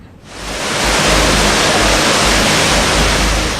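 Swollen Bhagirathi river in flood, its raging waves roaring as a loud, continuous broadband rush of churning water that swells in after a brief moment and holds steady throughout, with no voices.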